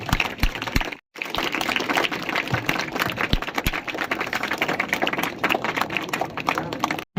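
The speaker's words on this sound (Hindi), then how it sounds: "जोरदार ताली।" An audience at a gathering honoring a Bihar board topper student from Begusarai claps loudly, a dense, continuous patter of many hands with a brief pause near the start, then steady applause to the end.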